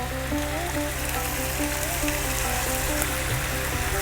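Onion sizzles and fries vigorously in a hot pan for a lamb and potato curry, a loud, continuous close-up crackle with a faint tonal hum underneath.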